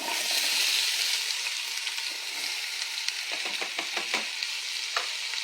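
Diced bell pepper and onion fry in an Instant Pot with a steady bright sizzle, while a utensil stirs the vegetables in quick scraping strokes toward the end.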